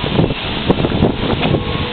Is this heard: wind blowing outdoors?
yes